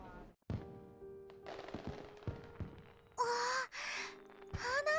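Fireworks go off in a video game, a burst of loud crackling pops with whistling rising streaks near the end, set among game sounds.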